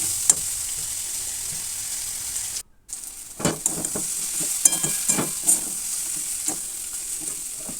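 Sprouted chickpeas sautéing in a pan with onion and garlic, a steady close sizzle broken by scraping stir strokes and a brief silent gap, no voices.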